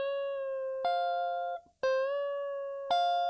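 Electric guitar notes ring out clearly, with one string bent upward in pitch and held, played alone in a few sustained phrases.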